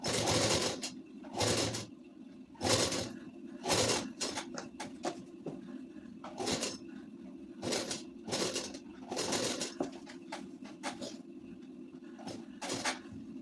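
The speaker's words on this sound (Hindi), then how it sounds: "ऐसे लेस को बराबर करते हुए यहाँ नोक तक लाएंगे सिलाई चलाते हुए।" A sewing machine stitches lace onto a ladies suit, its motor whirring in repeated short runs separated by brief pauses, fairly close and moderately loud.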